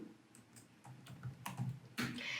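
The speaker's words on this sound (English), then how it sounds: "I will press Windows key and type Google." Quiet bursts of computer keyboard typing, several quick keystroke clicks clustered in uneven groups, close and soft with a sharper final tap.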